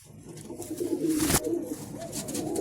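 Pigeons coo steadily in low, rolling phrases from close by, a brief sharp rustle cutting through midway, with no talking over them.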